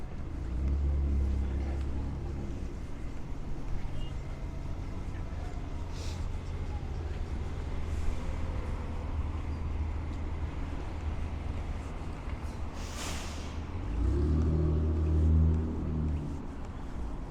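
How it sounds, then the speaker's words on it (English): A B64 city bus on Stillwell Avenue in Brooklyn rumbles past at street level, with a low engine drone swelling at the start and again near the end over steady city background noise. "This right here is the B64 bus."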